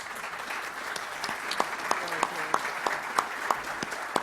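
Audience applause at a leadership roundtable event, a steady broadband patter of clapping with sharper individual claps standing out, moderately loud and continuing for several seconds without talk.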